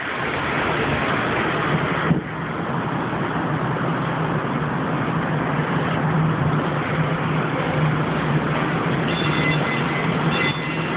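Steady rolling rumble of a train on the tracks, continuous and fairly loud, with a brief knock and a faint high squeal near the end.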